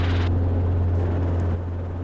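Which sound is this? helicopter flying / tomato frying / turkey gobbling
helicopter flying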